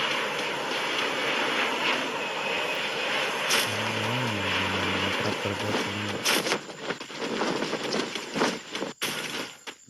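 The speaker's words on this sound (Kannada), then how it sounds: "ಫ್ಲೈಟ್ ಬಂತು" A steady propeller-plane drone roars overhead in a battle royale video game, loud and continuous, with brief voices and clicks partway through.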